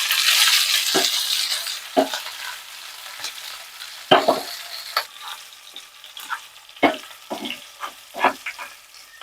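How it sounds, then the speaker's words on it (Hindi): Whole spices crackle and sizzle in hot oil for a tempering with half a tomato, a continuous hiss broken by sharp pops and stirring clinks at irregular intervals. "तड़का हो गया हमारा रेडी।"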